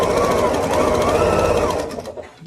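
A sewing machine stitches quilting fabric in a fast, steady mechanical whir that runs for about two seconds, then stops abruptly and leaves a quieter tail.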